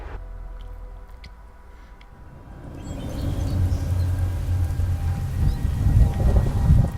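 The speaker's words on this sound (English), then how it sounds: "And this rain is not relenting." Steady rain in the video game Skyrim, in the Rift region, a soft wash of falling water that swells from faint to fuller and louder halfway through, with a low rumbling undertone and no talk.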